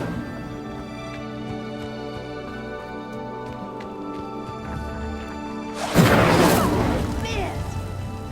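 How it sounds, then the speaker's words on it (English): Incendio fire spell in Hogwarts Legacy igniting a pyre: a sudden loud whooshing burst of flame near the end, rising over a steady hum of background music and then fading into a roaring crackle. "Flames make the pyre sink."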